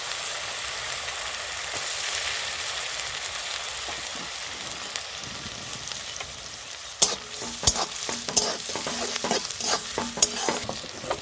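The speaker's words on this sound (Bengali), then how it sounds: "তেলে দিয়ে দেবো পেঁয়াজ বাটা, দিয়ে দেবো পেঁয়াজ কুচি" Onion paste and chopped onion frying in hot oil, with a steady close sizzle throughout, then the sizzle settling as a spoon scrapes and stirs the pan in repeated clicks.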